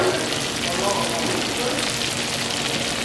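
Lobster tails sizzle on a Camp Chef outdoor stove, a steady, fairly loud crackling hiss that runs unbroken for a few seconds with faint voices in the background.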